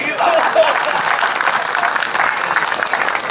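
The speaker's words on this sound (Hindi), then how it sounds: "एक बात समझ आ जाए तो पूरी तालियां।" An audience at a Hindi comic poetry gathering applauds steadily, a dense, sustained wash of clapping hands that holds at an even level throughout.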